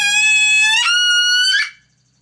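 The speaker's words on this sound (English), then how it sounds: "cut off all of the air coming out of the call to make that really high-pitched sound." A wood duck call giving a sustained high-pitched squeal with the air cut off, a steady reedy whistle that jumps higher partway through before ending abruptly; close, loud, with no other sounds.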